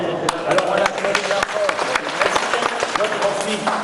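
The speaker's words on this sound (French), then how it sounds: "Alors on applaudit" Applause from an audience as mayors hand out caps at a ceremony, scattered clapping at moderate volume with a voice talking over it.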